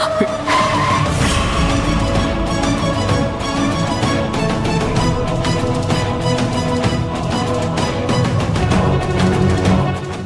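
A car swerves and skids along a road in a Telugu TV serial scene, with loud, sustained tire noise and a dense layered soundtrack over ten seconds.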